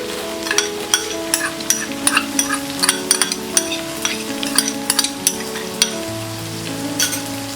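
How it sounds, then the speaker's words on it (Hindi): Onions fry in a pan for spinach khichdi, a continuous close sizzle broken by sharp rhythmic clicks of a spoon stirring against the metal. "अब हम इसमें डालेंगे ये अनियन"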